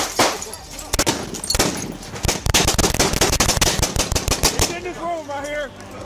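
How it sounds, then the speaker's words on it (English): A nine-banger flashbang grenade goes off during a police standoff with an armed suspect in Houston, giving a rapid string of loud, sharp bangs that ring out close and dense across the scene. "It's a flashbang that goes off nine times."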